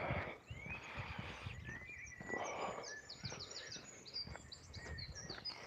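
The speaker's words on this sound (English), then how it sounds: "Birds tweeting away." Sparrows chirp in quick, bright bursts outdoors on a chilly day, fairly faint against soft footsteps and low background rumble.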